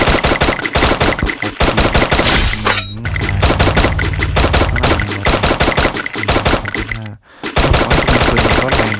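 Rapid automatic XM8 rifle fire in a shooting video game comes in loud, dense bursts of close shots, broken by a short pause near the middle and a brief silence before the final burst.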